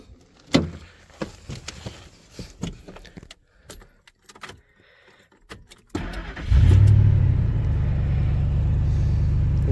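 Keys jangle and click for several seconds before a very rusty truck's engine cranks and catches, then settles into a loud, steady idle that runs close by to the end.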